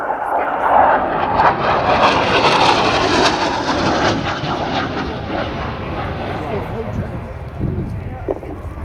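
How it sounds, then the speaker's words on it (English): A McDonnell Douglas AV-8B Harrier II jet at the Royal International Air Tattoo airshow, a loud continuous roar of jet engine noise that swells and slowly fades as it passes, with talk over it. "So the McDonnell Douglas AV-8B Harrier 2 was a joint project between the US and the UK"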